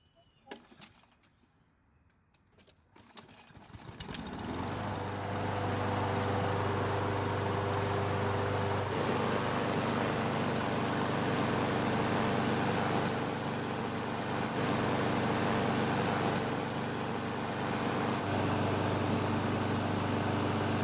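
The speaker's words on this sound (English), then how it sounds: "the engine started and it seems to run just like it did the day I sold it" A Craftsman lawn mower engine sputters to life after a few seconds and settles into a steady, loud idle that drones on without pause.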